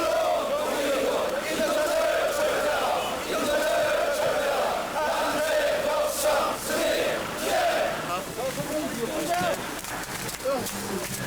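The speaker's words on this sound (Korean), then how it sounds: "박수" A large gathering at a labor rally or strike bursts into sustained applause mixed with crowd shouting and cheering. The noise is loud and continuous, with overlapping voices throughout.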